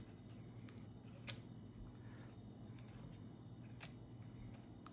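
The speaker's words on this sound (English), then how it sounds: "Start trimming a few of these long ones out of the middle." Scissors trimming long pine needles from a coiled pine needle basket, faint close snips, a couple of sharper cuts standing out against quiet room noise.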